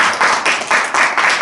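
An audience bursts into loud, close applause, with waves of clapping swelling and surging over a brief moment.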